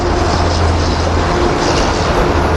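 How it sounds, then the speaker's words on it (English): Amtrak Regional 186 speeds past Cornwells Heights at rush hour, a loud, unbroken low rumble and wash of noise that holds steady from start to finish. "Here comes Regional 186."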